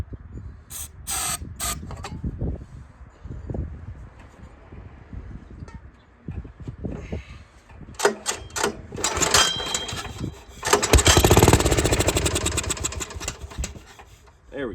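A small 1970s Commuter three-wheeler's engine is pull-started with sharp rattling pulls, then catches and runs loud and close with a buzzing, uneven idle, briefly revving up before settling.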